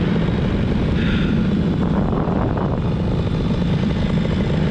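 Paramotor engine running in flight, a continuous loud buzzing drone with wind rush, steady and close throughout.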